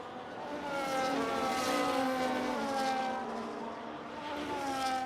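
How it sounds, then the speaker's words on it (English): Race car engines from a racing video game at the Belgian Grand Prix, a steady sustained whine with shifting pitch as several cars run through corners, loud and continuous with no talk. "Will he be placing his car beside Saronix's?"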